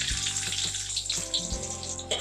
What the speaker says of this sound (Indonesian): Setelah minyaknya panas, kita tumis bawang merahnya.